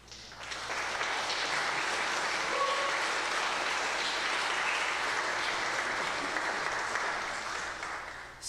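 A church congregation at a Sunday service applauds steadily: dense, sustained clapping from a crowd fills the room for about eight seconds, with no voices over it.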